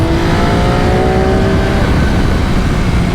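A 2020 MV Agusta F3 800 RC motorcycle engine roars loud and close under wind rush, its pitch stepping down through falling tones as it downshifts, with no talk.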